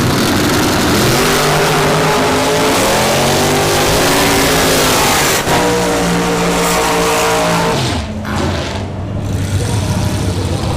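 A Hellcat dragster roars down the drag strip at a sportsman finals, a loud sustained engine howl with shifting harmonics that fades after about eight seconds.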